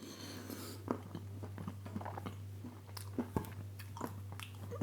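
Close, quiet chewing on frozen ice cream in a sandwich, with a few separate crunchy bites over a steady low hum and no talking.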